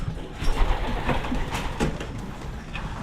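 Racing pigeons coo softly in short bursts against a noisy, rumbling background.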